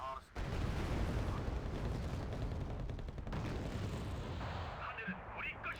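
Artillery barrages and gunfire from Wargame: Red Dragon rumble loudly and continuously, with heavy low booms rolling together through most of the stretch, while a voice talks over the din.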